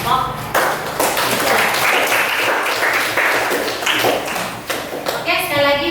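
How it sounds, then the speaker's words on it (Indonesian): Classroom of students applauding a student group, a loud burst of many hands clapping that holds steady for several seconds, with a teacher's voice briefly at the start and again at the end. "tepuk tangan buat kelompok"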